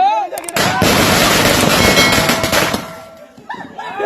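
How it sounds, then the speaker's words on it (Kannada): Firecracker set off on a Kannada TV set, bursting into a long loud crackling, popping barrage with a blast at the start, then trailing off, with brief voices around it. "ಯಾವ್ದಾದ್ರು ಪಟಾಕಿ ಹಚ್ಚಿ ಬೇಗ"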